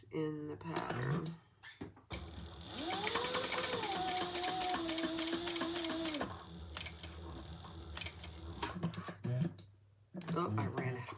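Sewing machine stitching leather, a steady mechanical whir with a rising then level motor tone running for several seconds, bracketed by brief talking before and after.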